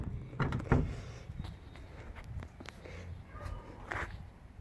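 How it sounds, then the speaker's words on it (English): The door of a 1969 Chevrolet CST-10 pickup truck swings shut with one close, solid thud, followed by quieter handling clicks and rustles; no speech is heard. "Hear how nice that door closes."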